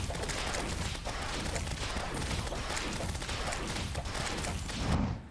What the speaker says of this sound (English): my friend found a funny little gun that does this